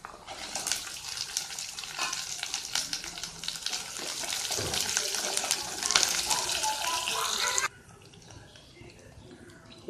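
Onion and dried red chillies frying in a pan, a dense, steady crackling sizzle that runs for several seconds under a speaking voice, then cuts back abruptly to a quieter hiss near the end.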